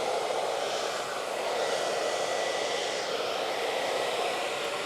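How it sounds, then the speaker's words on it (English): A hair dryer fitted with a diffuser blows a loud, steady broadband whoosh of air, close and constant throughout with no break and no voices. "Slow down the air that's coming out of the dryer over the hair"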